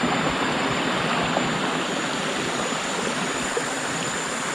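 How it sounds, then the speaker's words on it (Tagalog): A stream at Villa Elma in Lucban, Quezon rushes in a steady, dense wash of flowing water, loud and unbroken with no voices. "So, ito na yung batis."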